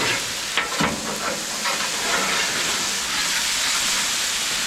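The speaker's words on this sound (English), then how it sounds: "All the fries are down, and so we're going to let those cook up a little bit." French fries for burgers and fries sizzle steadily in hot oil, a dense continuous frying hiss with a few brief bubbling pops, close and fairly loud throughout.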